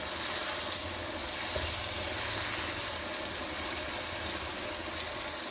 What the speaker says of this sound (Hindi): कुछ देर के लिए मैं इसे भून लूँगी।